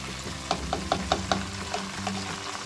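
Ingredients sizzle in hot oil for a brain masala dish while a spoon stirs them, with a steady frying hiss and a run of sharp scraping clicks against the pan, close and fairly loud.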